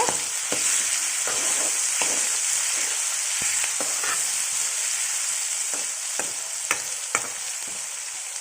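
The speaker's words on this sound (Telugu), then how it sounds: "ఇప్పుడు అల్లం వెల్లుల్లి పేస్ట్ వేస్తున్నాం ఇలా కలిపిన తర్వాత" Ginger garlic paste sizzles loudly in a hot pan with oil, a dense continuous frying hiss broken by regular clicks and scrapes of a spoon stirring against the pan.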